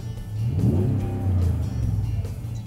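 Engine of a 2017 RAM 1500 Night Edition pickup fired up and revved outdoors in hot desert conditions, a loud, close, steady low rumble that swells and holds, with no talk.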